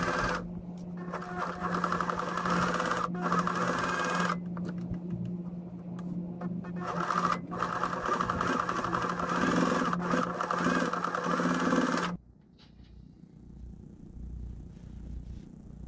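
A sewing machine topstitches beige fabric and denim in a long, loud, steady run with a few brief pauses, then stops, leaving quiet handling sounds.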